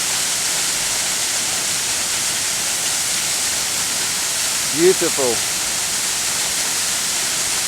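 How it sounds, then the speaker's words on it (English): Benlister Falls on the Isle of Arran, swollen after heavy overnight rain, crashing onto rocks below: a steady, broad roar of falling water filling the whole clip, with a brief spoken word over it. "The water's crashing down on the rocks below."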